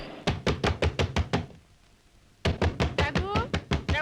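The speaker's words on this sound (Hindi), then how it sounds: "रघु, रघु दरवाजा खोलो" Someone knocks hard on a wooden door in a brisk series of raps, stops for about a second, then resumes with another rapid volley, loud and close.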